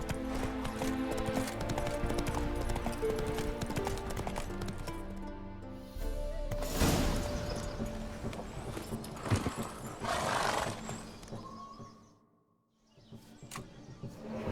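Hooves of the horse Roach gallop in The Witcher 3 video game, a steady clip-clop rhythm running under game music and ambience, with a brief lull near the end.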